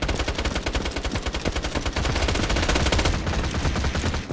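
Rapid automatic gunfire in Tiny Tina's Assault on Dragon's Keep, loud continuous bursts of shots in a fast steady rhythm with booming low impacts throughout.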